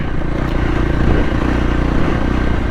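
Voge 300 Rally motorcycle engine running steadily while riding off dirt onto asphalt, a loud close droning hum with rattling clatter and wind, no voices.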